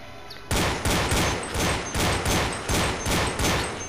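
A pistol fires eight loud, evenly spaced shots outdoors at a target, each sharp crack trailing off into a brief echo before the next, with no talking in between.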